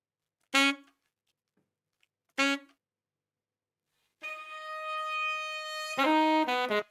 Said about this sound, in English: Next up we have this saxophone, kind of edited creatively